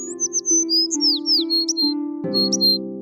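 Bright, high chirps and tweets of a white dove in quick repeated phrases, ringing over sustained low musical tones in a cartoon.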